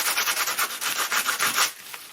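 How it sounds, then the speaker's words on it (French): Abrasive sanding rubbing back and forth through a red paint layer on a small painting, a steady run of about a dozen scratchy strokes, close and alone, easing off at the end. "à travers le ponçage, enfin sous le ponçage, sous la couche de peinture rouge"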